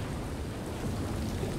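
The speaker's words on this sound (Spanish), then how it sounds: "¡Está lloviendo!" Steady, dense rain pours down with a constant broadband hiss and a low rumbling undertone, with no voices.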